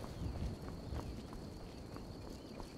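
Horse hooves clip-clopping in Skyrim, a steady walking rhythm of soft thuds heard at moderate distance over faint ambient game noise, with no talking.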